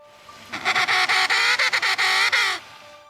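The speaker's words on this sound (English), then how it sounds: "the squawk of a penguin is a pretty versatile thing" Loud, harsh penguin squawks fill the clip in a rapid series of bursts, about ten choppy pulses close together, with a brief quiet lead-in and a fade at the end.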